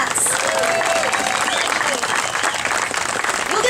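An outdoor crowd at a Route 66 roadside park grand opening applauds a band with continuous close clapping, mixed with scattered cheers and voices throughout.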